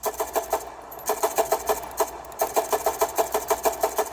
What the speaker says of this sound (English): We'll see what this gun sounds like.